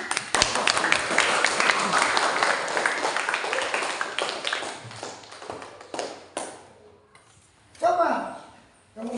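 A group of children claps together in a classroom, producing a dense burst of hand claps that thins to scattered claps before voices take over.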